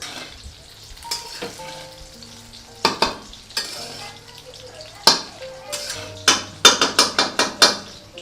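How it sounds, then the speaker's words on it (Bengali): Chicken frying in a pan for a winter home-cooked dish, with spoon scrapes and clanks against the pan over a steady sizzle, the knocks growing louder and quicker toward the end. "একটু ভালো করে এটাকে ভাজা ভাজা করি"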